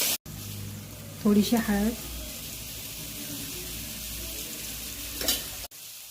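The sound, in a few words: tomatoes added to hot pan sizzling while frying paneer bhurji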